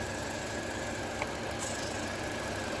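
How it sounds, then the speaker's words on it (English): A Mini Cooper engine idles unevenly with a constant, rough mechanical drone and hiss, heard up close without any talking. "I don't know if you guys can hear it, but the engine is running really rough."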